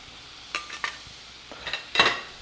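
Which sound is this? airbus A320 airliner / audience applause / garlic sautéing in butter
garlic sautéing in butter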